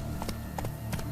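The horse Roach galloping in The Witcher 3, with quick clip-clop hoofbeats in irregular pairs, fairly close, over a low continuous background hum.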